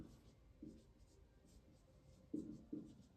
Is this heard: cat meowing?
no